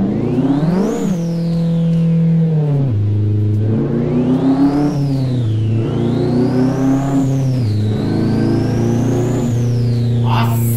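A VW Gol's engine revs repeatedly in the Live for Speed racing simulator, climbing and falling in several sweeping pulls over an idle, loud and close with no talking.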